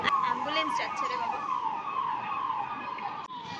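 An ambulance siren wails in repeated descending sweeps as it passes, loud and steady throughout with faint background noise and no talk.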